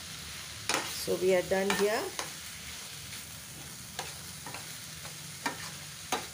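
Spoon stirring a vegetable sabji stir fry in a pan, a few close scraping strokes over a soft sizzle, followed by sparse light clinks, with a voice speaking briefly near the end.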